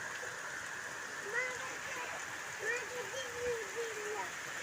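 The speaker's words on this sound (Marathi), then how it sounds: "पाणी पाणी करून टाकलंय सगळीकडे पावसाने" Steady rain falling and pouring water outdoors near a house doorway, a broad continuous hiss throughout, with a voice speaking intermittently over it.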